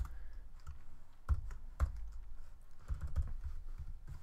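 Typing on a computer keyboard, a few soft, scattered key taps with occasional heavier thumps, close and quiet over a low background rumble.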